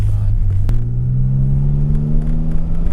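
A DeLorean engine revs close up at nearly full throttle, a loud sustained rumbling drone that holds steady and climbs slightly in pitch after a brief dip.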